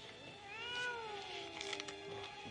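A single drawn-out cat meow from the 1989 film Pet Sematary, rising then falling, fairly faint and close, followed by a few soft clicks and rustles.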